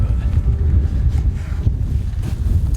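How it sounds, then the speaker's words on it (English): Strong wind buffets the microphone on open hunting ground in Wyoming elk country. It makes a continuous low rumbling roar with gusty swells throughout, close and fairly loud, and no voices are heard. "pretty windy"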